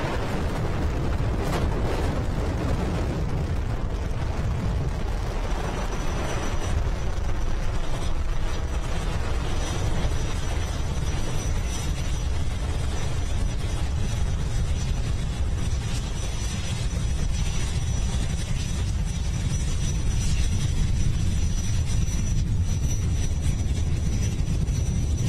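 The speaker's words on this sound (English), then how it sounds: "Liftoff, Falcon 9, the world's first reflight of orbital-class rocket." Falcon 9 rocket at liftoff on its first reflight of an orbital-class booster, a continuous loud, deep rumbling roar with crackle that holds steady for the whole stretch, no voices.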